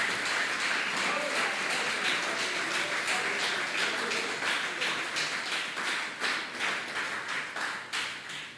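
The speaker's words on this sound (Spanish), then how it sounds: "Démosle ese aplauso al Señor." A church congregation applauds during a sermon, a dense, steady patter of many hands clapping that holds for several seconds and only slightly thins toward the end.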